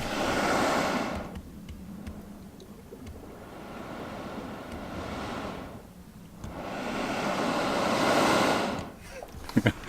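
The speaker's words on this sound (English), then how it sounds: "It's some blowhole through the cracks in the rocks. Obviously there's a cave underneath where the water's rushing and pushing the air out." A sea blowhole forces air out through cracks in the rocks above a cave, producing loud, breathy roaring surges that swell and fade in two long waves, with rushing water and wind underneath.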